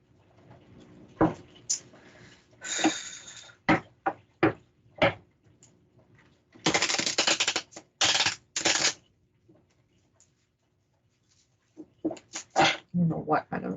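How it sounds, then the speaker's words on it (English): Tarot cards being shuffled in bursts of crisp riffling and slapping, with several short snaps followed by longer clattering runs, close and fairly loud, separated by brief quiet gaps. "I don't know what kind of shuffling this is"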